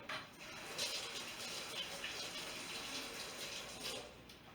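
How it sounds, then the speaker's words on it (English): Tap water runs steadily over hands being rinsed at a kitchen sink while baking butterscotch pecan bars, a continuous close splashing wash with no talk. "Rinse that off my hands again."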